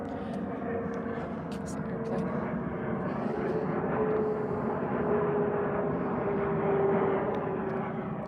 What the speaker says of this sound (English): There's an airport right over there, so we get a lot of planes going over.